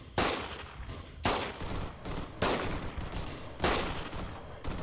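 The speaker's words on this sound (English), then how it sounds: "I am not shooting that well with this thing." Sniper rifle shots in the Arma 3 video game ring out four times at roughly one-second intervals, each a loud, sharp crack trailing into a rolling boom, with no voices.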